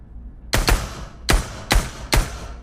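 Four sharp gunshots ring out in the VR shooter Pavlov, an isolated one followed by three spaced evenly, each a loud crack with a short decaying tail over low background hum.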